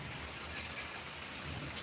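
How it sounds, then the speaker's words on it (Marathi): Heavy rain pouring down in a steady, dense patter, quiet and even throughout with no voices. "भरपूर पाऊस चालू आहे मित्रांनो"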